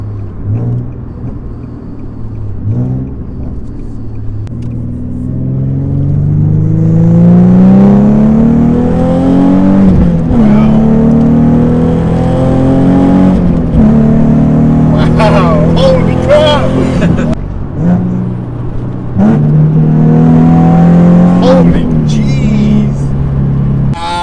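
A Nissan 370Z with a GKTech differential brace and transmission mount accelerates hard, its engine droning and rising in pitch through several gears with brief dips at each shift, loud and close from inside the car.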